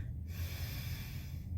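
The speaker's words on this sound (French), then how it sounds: "On prend une grande respiration." A deep breath drawn in during a breathing exercise, a single soft, sustained airy inhalation lasting over a second, close and quiet with no talk.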